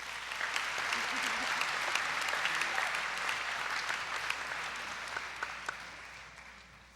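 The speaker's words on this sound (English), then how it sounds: "Will you give Zach another round of applause?" Applause from a crowd at a high school senior celebration, dense and steady for several seconds before fading slightly at the end, with a voice briefly heard over it.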